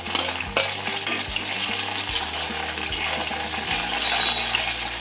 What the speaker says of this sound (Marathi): कांदा टमाटर छान तळून झालं बघा